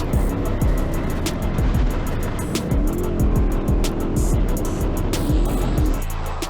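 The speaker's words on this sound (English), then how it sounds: "There's a f***ing trophy truck behind us." Off-road racing during the Baja 400, with an engine roaring loudly and continuously from up close. Gravel and debris rattle, and the engine note swells as a trophy truck comes up from behind.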